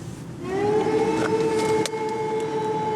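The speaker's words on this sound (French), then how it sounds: "La sirène." A steady wailing air-raid siren in wartime Ukraine rises in pitch and holds a sustained tone, loud and outdoors, with faint background noise underneath.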